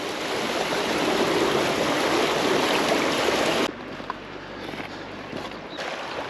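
The fast-flowing Prut river rushes in a loud, continuous hiss of moving water for several seconds, then drops suddenly to a quieter, more distant flow with a few small knocks.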